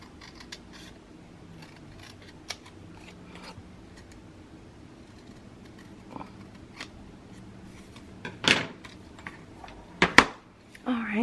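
Sheet of paper cut by hand with scissors for a scrapbook album cover, faint scattered snips and rustles rising to a few louder, sharper close cuts near the end.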